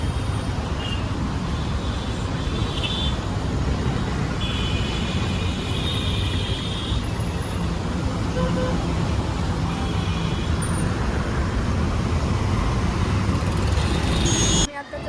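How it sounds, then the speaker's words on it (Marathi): Continuous road traffic rumbles past, a steady low drone of engines with occasional faint horn-like tones over several seconds. "ट्रॅफिक लागले"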